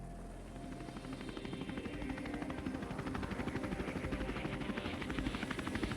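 A medevac helicopter hovering during a steep mountain rescue, its steady rotor thump droning throughout, a loud continuous chopping pulse with engine whine, growing slightly stronger.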